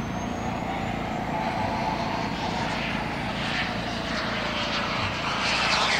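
A jet aircraft taxiing out at an air show, with a continuous loud engine roar and whine that holds steady and builds slightly toward the end.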